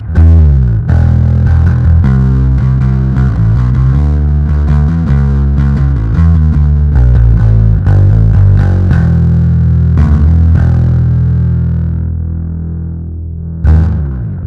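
Distorted fuzz bass through an Electro-Harmonix Bass Big Muff Pi pedal in dry mode plays a steady line of gritty notes and chords, loud and unaccompanied, trailing off into a held note near the end.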